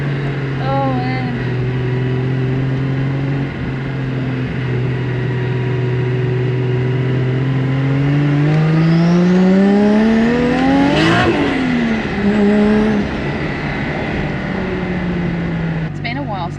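A 700-horsepower fully forged Nissan C33 Laurel engine revs hard from inside the car, its tone climbing steeply to a loud peak, then dropping and settling into a strong drone.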